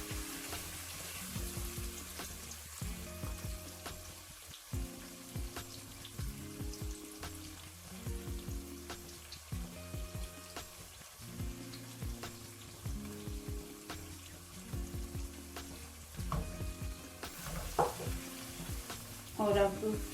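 Prawns sizzle in masala in a pan as yogurt goes in and gets stirred, giving repeated scraping strokes in a steady rhythm over a soft frying hiss, close and fairly quiet, with a brief clatter near the end.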